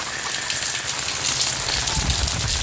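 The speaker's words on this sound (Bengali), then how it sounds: "এ যা বৃষ্টি শুরু" Heavy rain pours at an open market where chickens are being sold, a loud, close, continuous hiss of drops on surfaces.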